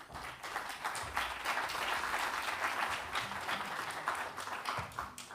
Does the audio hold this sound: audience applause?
yes